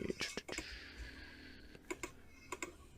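Computer keyboard typing with scattered key clicks in short bursts, moderately close, with a voice talking at the start.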